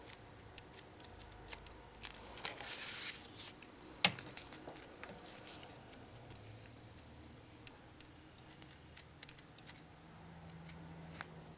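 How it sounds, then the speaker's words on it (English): Scissors cut fabric for a handmade rose, giving quiet, close snips and crisp clicks at an irregular pace, with one sharper snip in the middle and no talking. "you're going to need some scissors for this part"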